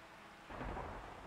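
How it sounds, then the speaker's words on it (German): A thunderstorm in the Undead Legacy video game: a faint, distant thunder rumble swells up halfway through over a steady hiss of rain, quiet and without speech. "Vielleicht warte ich vorher noch das Gewitter ab."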